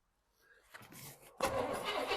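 Engine of a 1979 Chevy Blazer cranking as the key turns: a faint click and rising starter whir, then a sudden louder, steady grinding crank, close up, no talking.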